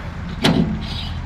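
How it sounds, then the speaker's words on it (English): A vehicle rear door opens in Farming Simulator 22 with a single short mechanical clunk and whoosh, standing out over steady engine-like background noise. "think I'm gonna just try and open the rear door here"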